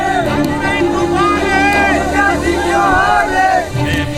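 A dense crowd of supporters gathers around Shivraj Singh Chauhan after a swearing-in. Loud, close voices chant and cheer together in a rising, wavering babble that runs steadily throughout.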